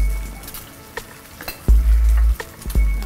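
Corn oil sizzles and fries steadily in a pan as a tempering cooks, with a few scraping stir strokes and clinks over the hiss and no talking.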